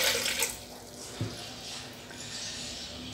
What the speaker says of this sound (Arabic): كناخد كاس ديال مولينكس، كنوضع فيه جوج كيسان ديال الماء